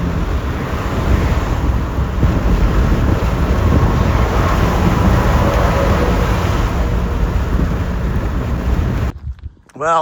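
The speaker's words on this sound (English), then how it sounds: "now we're getting a big gust front kicking up from that rain and downburst and hail." Strong storm wind from a gust front with rain and hail roars steadily across the microphone for several seconds, a dense continuous rush, before cutting off abruptly into a brief quieter moment.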